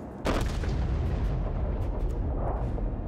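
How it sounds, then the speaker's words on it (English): Heavy battleship guns fire shells in a World of Warships naval battle, a loud booming salvo bursting out after a short quieter lead-in, followed by a sustained rumbling roar that stays loud to the end. "There go my shells."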